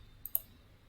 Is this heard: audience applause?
no